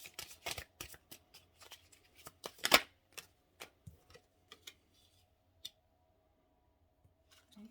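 Tarot cards being shuffled and handled, a string of quick light snaps and flicks clustered at the start, then sparser isolated taps trailing into near silence.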